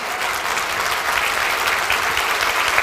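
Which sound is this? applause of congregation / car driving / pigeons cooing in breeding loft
applause of congregation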